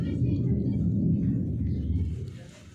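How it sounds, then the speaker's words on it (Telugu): Thunder gives a deep, continuous rolling rumble that holds for a couple of seconds and then fades out. It sounds distant and fairly loud. "ఉరుముతా ఉంది తల్లి."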